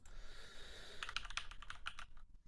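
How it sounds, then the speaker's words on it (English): Quick bursts of keyboard typing, a rapid run of light clicks and taps close by, then quiet. "Come on, keyboard. Just type those 2 in"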